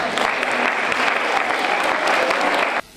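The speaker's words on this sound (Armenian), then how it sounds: "բուրուն ծափերով էր դիմավորում ու ճանապարհում յուրաքանչյուր մասնակցին" An audience at a charity concert in a palace of culture claps loudly and steadily in warm, sustained applause that cuts off abruptly near the end.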